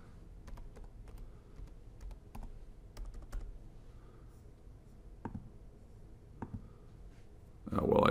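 Password being typed on a computer keyboard at a desk, quiet scattered key clicks in short irregular bursts with a louder clatter at the end, no talking.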